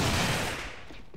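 A short burst of rapid automatic gunfire from a low-recoil gun in the shooter game AVA, loud and dense, tapering off within about a second with no talk.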